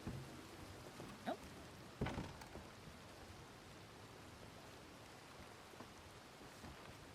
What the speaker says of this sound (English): rain gets really loud in Saints Crossing